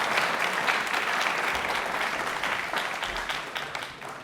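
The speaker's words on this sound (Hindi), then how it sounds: "एक बार तालियां हो जाए नेहा मैम के लिए जोरदार" Steady, dense audience applause for a guest doctor on a televised panel show, a continuous wash of many hands clapping at even loudness that tapers slightly toward the end, with no talk over it.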